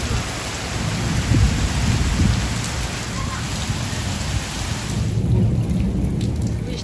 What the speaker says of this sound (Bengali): বৃষ্টিটা একটু কমেছে তা আকাশের ডাক এখনো বন্ধ হয়নি